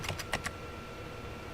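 A few quick keystrokes on a computer keyboard, entering manual voltage values while overclocking a locked 10-core Intel Xeon 2670 v2 server processor; a short cluster of clicks at the start, then quiet room hum.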